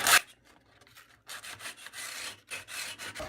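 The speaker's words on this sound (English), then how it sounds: "take some real light, light for what I typically do, like 80 grit sandpaper, and just come down through here" 80 grit sandpaper rubbing across a plastic louver in repeated quiet strokes, a soft rasping rhythm of short scrapes close by, with no talk.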